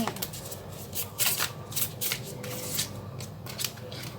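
Tarot cards being shuffled in a repeated run of crisp riffling bursts, fairly close and steady, with no talking over them.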